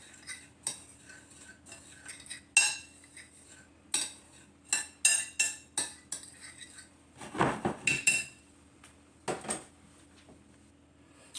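A utensil mixes vegan crab cake mixture in a bowl, scraping and clinking against the sides in quick bursts of irregular strokes, with a denser stretch of stirring toward the end and no talking.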